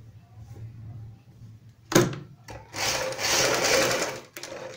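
A sewing machine stitching the neck of a kurti, with a sharp clack followed by a loud, steady mechanical whirr of rapid stitching that stops and then starts again briefly.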